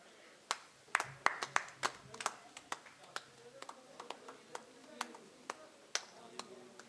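Scattered hand claps ring out from a small audience at a media association event in Ambala, sparse and uneven rather than a full ovation, fairly quiet with some faint room noise.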